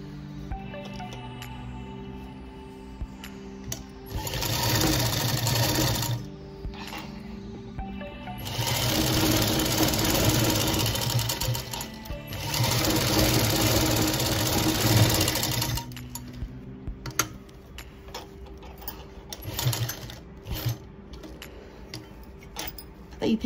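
A sewing machine stitches fabric for a baby bonnet in several sustained runs, a steady close mechanical whirr that starts and stops between quieter pauses with light handling noise.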